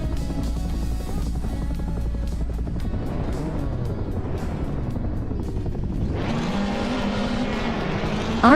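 Race cars starting a race at the Chicago Street Circuit in a video game, led by a 2028 KTM X-Bow GT4: engines hum and rev steadily, then rise sharply into a loud, close acceleration near the end.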